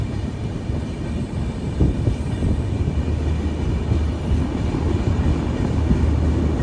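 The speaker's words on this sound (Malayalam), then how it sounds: "കട്ടക്ക് റെയിൽവേ സ്റ്റേഷനിലേക്ക് ഇതാ ട്രെയിൻ എത്തിക്കൊണ്ടിരിക്കുകയാണ്." The Vivek Express pulls into Cuttack railway station with a steady, loud low rumble of rolling carriages, heard without any voices.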